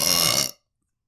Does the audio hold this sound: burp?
yes